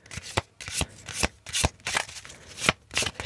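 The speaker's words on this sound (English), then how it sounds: "I'm going to pull a card" Tarot cards shuffled by hand, a rapid series of sharp riffling slaps and snaps at irregular intervals, close and crisp, followed by a card being pulled from the deck.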